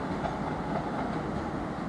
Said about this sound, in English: The train now approaching platform 1 is the 1709 Southern service to London Victoria.